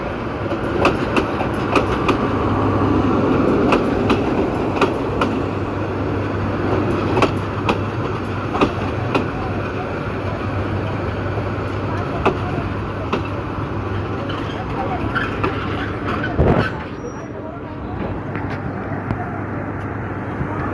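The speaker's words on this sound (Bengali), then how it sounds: "ঢাকা অভিমুখী আন্তনগর চট্টলা এক্সপ্রেস ট্রেনটি ভৈরব বাজার জংশনের 1 নম্বর প্ল্যাটফর্মে এসে যাত্রাবিরতি দিয়েছে।" The Chattala Express intercity train pulls into Bhairab Bazar Junction, a continuous loud rumble with clattering wheel clicks and a low engine drone, fading slightly toward the end, with faint voices around the platform.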